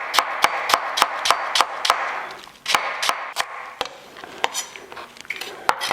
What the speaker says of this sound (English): So I'm gonna slice this up.